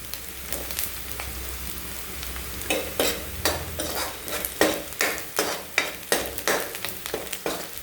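Leftover khichdi is stirred and fried in a pan, with a steady sizzle underneath and a regular series of scraping spoon strokes, close and clear, with no talking.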